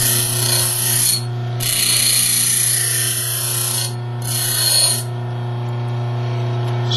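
A hand file rasps steadily along the edges of a metal lock pick blank, rounding them off in two long loud strokes separated by brief pauses, with a steady hum underneath.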